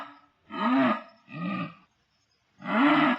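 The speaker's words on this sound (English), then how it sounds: "This is the sound of a jaguar." A jaguar roars in three loud, close, rough bursts, the first two back to back and the third after a short silence, each a deep sawing grunt with no voices.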